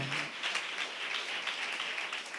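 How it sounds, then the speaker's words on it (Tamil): A church congregation claps during a sermon, a steady wash of many hands applauding at moderate volume, with a brief voice at the very start. "நல்ல கைத்தட்டுங்க, ஆண்டவரை மகிமைப்படுத்துங்க"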